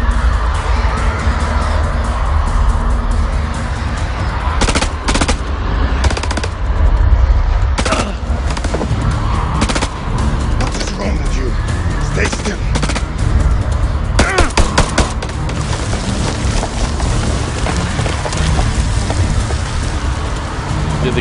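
Rapid automatic gunfire from a machine gun in the horror game House of Ashes, loud and dense, with bursts of shots crackling over a constant roar of heavy rain and rumble, with no speech over it.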